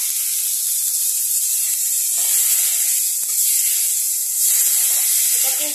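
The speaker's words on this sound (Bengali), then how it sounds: "এখন আমি এই আলু মটরশুঁটিটা দিয়ে দেব।" Potatoes and peas sizzling in a hot spiced pan, a steady bright hiss that swells slightly when stirred, running continuously with no voice over it.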